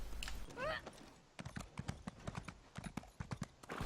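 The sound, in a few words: horse hooves while riding in video game The Elder Scrolls Online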